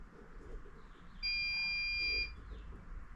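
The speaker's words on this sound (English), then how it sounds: "Got the 2 beeps" A QNAP NAS emits two electronic beeps in quick succession, a single steady, loud tone lasting about a second against a quiet background.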